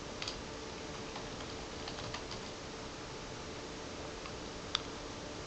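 Soft, quiet keystrokes on a computer keyboard as a password is entered, a few light taps and clicks spread over a low background hiss, with one sharper click near the end.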